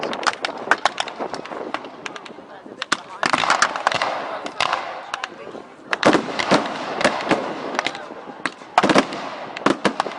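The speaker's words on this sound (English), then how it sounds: "Anti-aircraft fire chases the German aircraft, but to no effect." Anti-aircraft fire at a historical battle reenactment festival: rapid bursts of sharp cracking shots in uneven clusters, fairly loud over outdoor crowd ambience, with scattered pauses between volleys.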